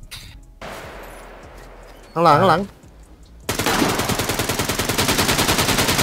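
Rapid automatic gunfire from the survival video game SCUM erupts midway and continues as loud, dense, unbroken bursts, following a quieter stretch with a brief voice speaking.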